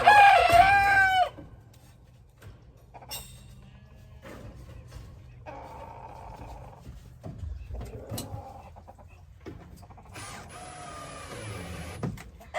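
A rooster crows loudly and close at the start, then chickens cluck softly and sporadically among faint rustling.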